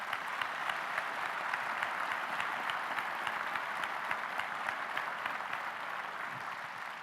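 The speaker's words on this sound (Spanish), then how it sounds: "les pido un fuerte aplauso para ellos" Steady, dense applause from a gala audience, many hands clapping evenly at moderate distance with a constant wash of claps, no voices over it, slightly easing near the end.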